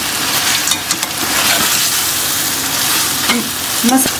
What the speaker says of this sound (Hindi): मसालों को डाल के हमने इसकी भुनाई करनी है